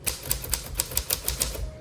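A 1935 Smith Corona Silent typewriter is typed on up close, giving a quick, slightly uneven run of about a dozen muffled, dense keystrokes with no talking.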